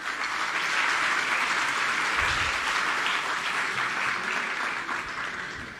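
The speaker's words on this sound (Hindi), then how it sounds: "ज़ोरदार तालियां।" A large audience at a Delhi government school event gives loud, sustained applause for the public works department team on stage, a thick, continuous clapping that fades slightly at the end.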